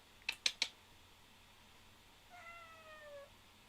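Pet cat Tonks lets out three quick, sharp meows in a row, then a longer, softer drawn-out meow after a short pause, close by in a quiet room.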